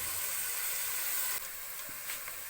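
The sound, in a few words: ginger garlic sizzling with onions in hot oil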